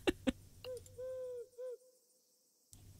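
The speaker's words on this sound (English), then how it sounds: "No, it just sounded like a normal owl." An owl in the video game Arco gives a few soft, hollow hoots, spaced out and fairly close, with the rest of the game ambience quiet behind them.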